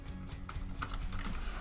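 Computer keyboard typing during a live coding session, a steady run of quick, close key clicks with a soft hum beneath and no voices.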